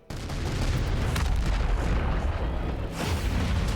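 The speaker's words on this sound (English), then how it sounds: "Bombing run." Explosions from a bombing run in the RTS video game Earth vs Mars: a sudden loud blast, then a dense, continuous rumble of booms, with a fresh surge of impacts near the end.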